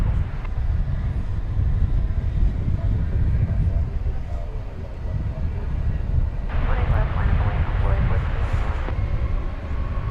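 American Airlines flight 1571 airliner arriving at DFW Airport at night from LaGuardia, a low continuous engine roar under a commentator's voice, with a brighter burst of noise late on.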